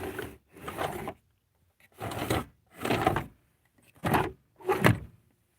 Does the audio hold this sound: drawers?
yes